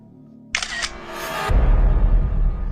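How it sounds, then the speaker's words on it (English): A sharp camera shutter click with a brief whirring mechanism, followed by a louder low rumbling background that continues to the end. "The sound of a digital camera shutter"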